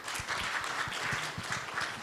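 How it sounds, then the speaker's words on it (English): Brief applause from a conference audience, a steady wash of clapping at moderate level for about two seconds, with no talking over it. "So I think let's first give a hand of applause to Mr. Surod."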